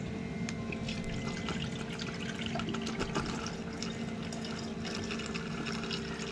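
Water pours steadily into a hydronic underfloor heating system being filled in a VW Crafter camper van conversion, a continuous close trickle and splash over a constant low hum, with no voices.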